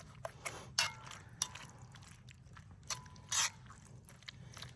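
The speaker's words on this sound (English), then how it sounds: "You take this tomato paste, put that in there. Give that a good stir." A spoon stirs tomato paste into a pot of stew meat at a winter campsite: quiet scrapes and clinks come at irregular intervals over a low, steady background.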